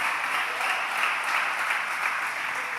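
Church audience at a Portuguese-language service giving a round of applause, a dense, steady wash of clapping from many hands with no single claps standing out.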